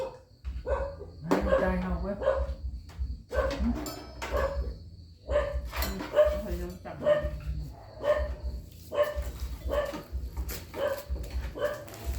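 A dog barks in short, repeated bursts at a moderate distance outdoors at a rural Thai home in the evening, mixed in with people chatting nearby.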